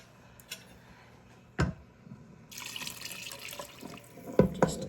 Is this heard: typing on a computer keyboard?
no